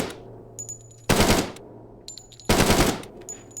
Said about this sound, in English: Now, I just heard someone else lighting up their weapon.